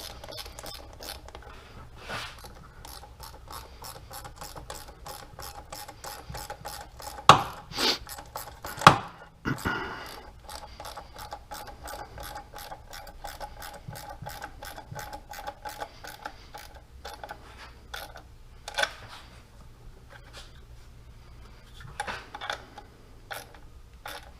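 Ratchet turning a deep well socket during a Hellcat intake install, producing rapid, fairly quiet clicking in steady runs with a few sharper knocks partway through.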